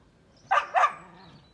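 A dog gives two quick, close barks in a rural village in Samandağ, Hatay, followed by faint low background murmur.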